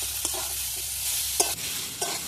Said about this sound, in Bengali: এবার এগুলো আমি ভালো করে একটু ভেজে নেব।